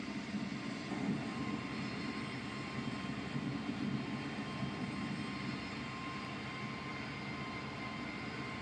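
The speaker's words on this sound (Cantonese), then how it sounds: "玩飛機遊戲打颱風。" A steady droning airplane engine roar from an airplane video game, flying into a typhoon, constant and moderately loud throughout with no voices.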